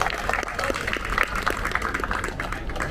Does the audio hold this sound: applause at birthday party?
yes